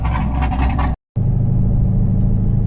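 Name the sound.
Chevrolet Camaro with Borla Switchfire exhaust accelerating, 40 to 100 run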